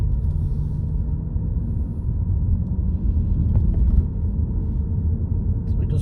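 Car driving through Wigston, Leicester, a steady low engine and road rumble heard from inside the cabin, with a voice talking over it.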